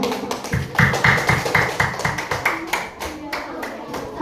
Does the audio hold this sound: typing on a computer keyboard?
no